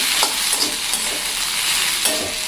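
Okra stir-fried in a hot pan sizzles steadily, with a few scraping stirs of the spoon breaking through the continuous frying hiss.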